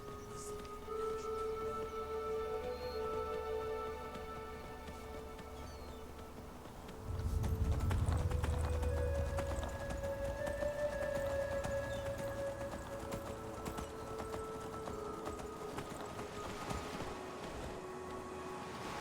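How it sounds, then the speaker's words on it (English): A donkey's hooves clip-clop steadily along a road in the video game Enderal: Forgotten Stories. The hoofbeats sound quietly under in-game ambient sound, and a brief louder thump comes partway through. "very important man with donkey coming through"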